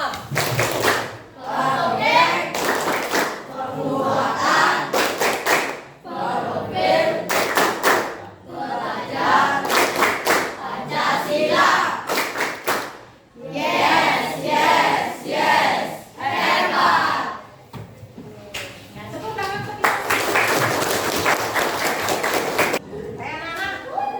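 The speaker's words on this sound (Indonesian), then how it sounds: "anak-anak yang bertugas memimpin tepuk P5-nya silakan. Tepuk P5." Schoolchildren in a classroom perform the rhythmic P5 clap chant, loud bursts of clapping and shouted chanting in repeated patterned phrases, led by classmates with a teacher present.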